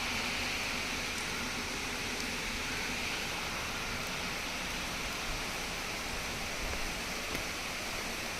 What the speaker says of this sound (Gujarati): વરસાદ થોડો સ્ટાર્ટ થઈ ગયો છે